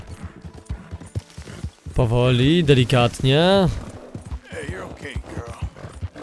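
Horse hooves clip-clop in the Red Dead Redemption 2 video game, a steady, close patter running under a man's speech, with a loud horse whinny rising and falling in the middle.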